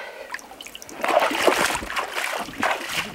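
A sawfish being lowered into a water tub sets off splashing and dribbling water that swells after the first second and runs on in uneven bursts, fairly close.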